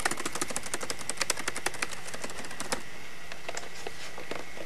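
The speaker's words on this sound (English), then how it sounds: "sort of get a feel for what the keyboard sounds like." Rapid, steady clicking of Acer Switch One 10 laptop keys typed close up, a continuous run of light taps that slows slightly toward the end.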